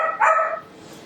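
A single sharp dog bark, close and fairly loud, cutting through a quiet room and fading quickly into low background hiss.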